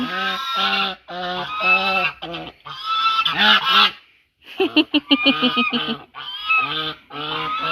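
Several aggressive geese honk loudly and repeatedly up close at a rural Thai home around feeding time, their harsh calls overlapping in bursts with a brief pause midway.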